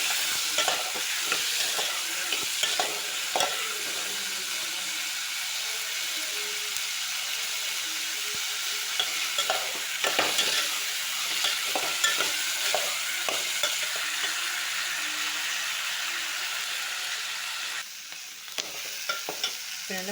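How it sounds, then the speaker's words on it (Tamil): Turkey berries sauté in hot oil with tomato, giving a steady crackling sizzle with repeated scrapes and clinks of a spoon stirring the pan throughout. "நல்லா வதங்கிடணும் எண்ணெயிலேயே."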